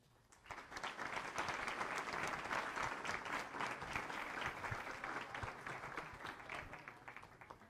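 An audience at a discussion panel on migration in El Salvador breaks into applause, with many hands clapping densely and steadily for several seconds before the sound begins to fade.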